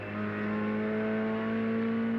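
Touring car engine at the Bathurst race holding a steady, moderate drone with a strong constant hum and no hard revving, continuous and fairly distant throughout.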